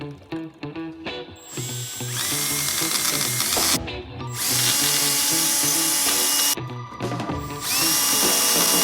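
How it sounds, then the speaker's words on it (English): A power drill bores out rivets on the sill plates of a camper van under conversion, whining loudly and steadily in two long runs separated by brief pauses, with nearby ratcheting clicks at the start. "I need to drill out these rivets and pop these sill plates off"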